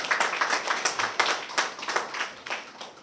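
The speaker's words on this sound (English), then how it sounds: "I think that deserves applause." Scattered clapping from an audience at a Caribbean Airlines route announcement, a modest, uneven patter of hands rising and dipping for a few seconds, fairly close and not very loud.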